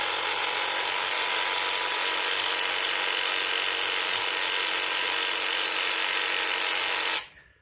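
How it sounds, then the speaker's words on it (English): A paint sprayer pump primes at variable speed setting 10, giving a loud, steady high-pitched whine that runs unbroken for about seven seconds and then cuts off abruptly. "And just kind of let the paint turn the pump."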